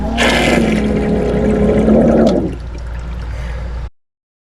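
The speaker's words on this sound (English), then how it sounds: "the sink doesn't drain unless you push this macerator button up here" The sink macerator pump in a 2025 Entegra Ethos 20E motorhome drains water with a loud gurgling, whirring rush for about two seconds, then drops to a softer hum before cutting off abruptly.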